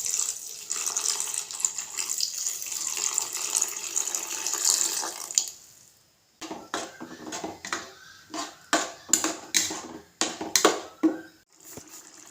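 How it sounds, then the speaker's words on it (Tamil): Coconut milk pours steadily into a pan of egg curry for several seconds, then a series of irregular splashes and clinks follow, close by with no talking. "தேங்காய் பால் ஊற்றிக்கலாம்"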